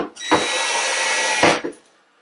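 A power driver runs a screw in to hold down a plate on a Jacuzzi unit, giving one steady whirring drive of just over a second that ends in a brief final burst, close and loud.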